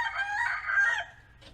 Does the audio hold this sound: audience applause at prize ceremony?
no